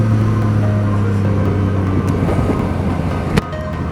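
A Yamaha MT-09 motorcycle in B riding mode pulls hard under acceleration, its engine a loud, steady, close drone with a continuous rumble throughout and a brief sharp change near the end.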